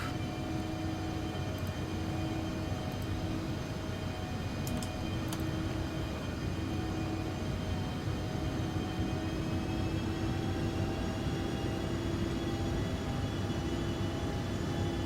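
Embraer ERJ-145 regional jet of Loganair on approach with flaps lowering and throttle adjusting, a loud steady cabin roar with sustained engine whine and tonal hum throughout, no talk.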